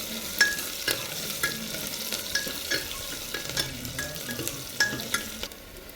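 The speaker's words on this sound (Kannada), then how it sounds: "ಈರುಳ್ಳಿಯನ್ನು ಚೆನ್ನಾಗಿ ಕೆಂಪಾದವರೆಗೂ ಕಾಯಿಸಿಕೊಳ್ಳಿ" Chopped onions frying in a pan and stirred until browned for a North Karnataka palak rice, a soft sizzle under repeated crisp spatula clinks and scrapes at an uneven rhythm, close by, with no speech.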